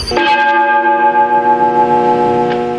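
A recorded church bell imitation plays the midnight chime in the town of Brotas, a single loud strike with long sustained ringing overtones that slowly decay, heard alone without talk.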